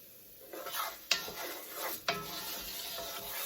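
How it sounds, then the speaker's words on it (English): Paella rice stirred in a hot pan, a soft sizzle under repeated scraping strokes, with two sharp knocks of the spoon against the pan about a second apart. "I'm going to keep stirring"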